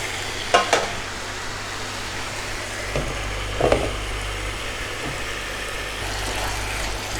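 Kashmiri chicken sautéing in a pan gives a continuous close hiss and sizzle under a low steady hum, with a few scraping knocks of a spoon against the pan.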